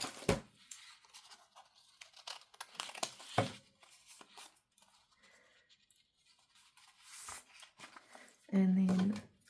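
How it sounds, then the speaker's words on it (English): Scissors snip across the top of a paper scrap pad during a paper-craft session: a few sharp, crisp cuts with crinkling and rustling between them and a louder closing burst, all fairly close. "I'm going to cut across the top of there."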